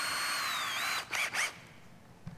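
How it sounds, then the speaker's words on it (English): An electric drill bores a 1/8-inch hole at the pivot point of a router circle guide, a steady high-pitched motor whine followed by two short, sharp bursts as the bit bites, close and with no talk. "we're going to drill an 1/8-inch hole"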